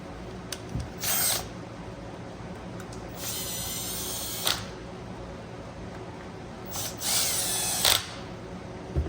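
Short bursts from a power tool driving two bolts back into a cover plate on a Husqvarna T540 XP Mark III chainsaw, heard as three separate whirring runs over a steady low background hum, with no talk.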